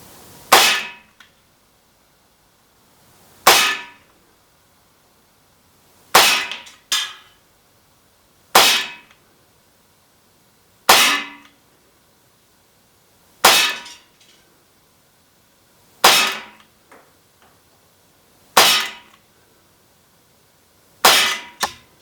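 Ten shots from an Umarex Glock 17 3rd Gen CO2 blowback BB pistol fired offhand outdoors, evenly spaced sharp cracks roughly every two seconds, each with a short metallic blowback snap and brief decay, and no talking.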